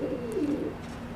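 A single soft, low pigeon coo from a gifted pair of racing pigeons, heard close and alone over faint background hiss.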